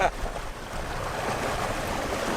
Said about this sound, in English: Wind has picked up a bit. Yeah, still a lot of swell.